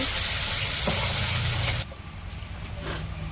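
Onion and green chilli fry in hot oil in a Bangladeshi village kitchen, where fish was just fried. A loud, steady sizzle fills the first half, then drops abruptly to a quieter, softer hiss.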